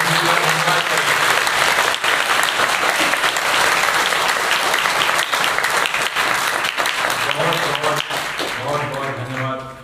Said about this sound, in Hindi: अगर आपको भी आज खूब आनंद आया तो जोरदार तालियों से धन्यवाद करते हैं।